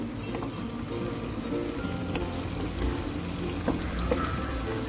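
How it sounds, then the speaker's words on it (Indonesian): Anchovies (ikan teri) frying in oil in a wok, giving a steady dense crackling sizzle throughout with scattered sharper pops, close and even in loudness, with no talk. "Akan saya goreng ikan terinya"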